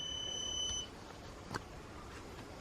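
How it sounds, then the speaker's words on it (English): A QUCC battery management system beeps while a battery keeps charging with several cells overcharged above 3.4 volts: a steady, high electronic tone holds for under a second, then stops, leaving faint background hiss. "the BMS is beeping like hell, but it's still charging"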